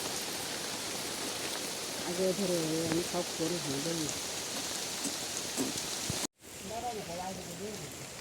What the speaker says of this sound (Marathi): पाऊस येतो